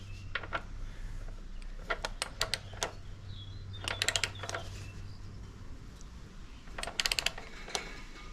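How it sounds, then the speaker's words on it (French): Torque wrench tightening the rear suspension on an Indian Scout motorcycle, giving several short clustered ratchet clicks in bursts over a steady low hum, moderately close. "On prend la clé dynamo"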